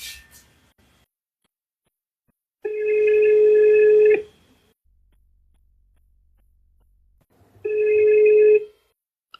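Telephone ringing in two long electronic bursts separated by a quiet gap, each trill loud and close with no one talking over it.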